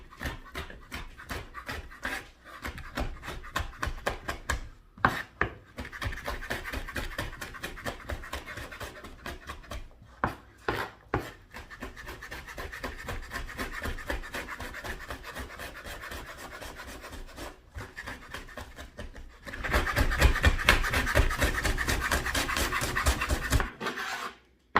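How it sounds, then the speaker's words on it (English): Knife chopping olives and sun-dried tomatoes on a board, a steady run of quick rasping cuts with brief pauses, growing busier and louder toward the end; no one speaks. "And we'll cut the olive and the sun-dried tomato."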